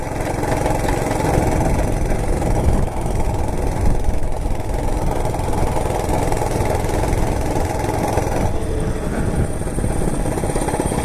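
A Monter Moto MMB80 gas minibike engine running while riding, a steady, loud small-engine drone with a slight drop in pitch near the end and wind noise mixed in.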